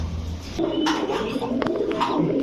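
Pigeons of Pakistani Teddy, Shahranpuri and Budapest breeds coo softly at close range, low throaty calls mixed with rustling, wing flutters and a few sharp clicks.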